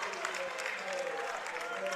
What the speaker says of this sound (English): Carter Kent gets a nice little applause as he heads to the bench